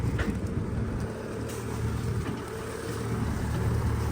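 A vehicle crawls in low gear across a vegetable garden over potato rows, a steady low engine rumble with wind buffeting the microphone throughout.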